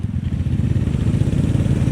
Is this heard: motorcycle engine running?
yes